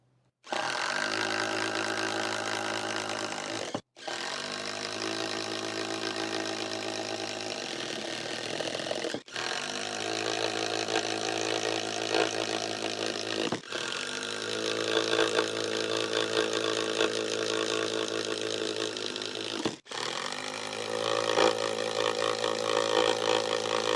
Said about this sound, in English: The Hyper Tough successfully slayed the 3/4 inch plywood with every paddle bit.